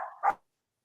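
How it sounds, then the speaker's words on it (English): A puppy gives one short, yappy bark, faint and slightly distant, followed by silence. "is that your puppy?"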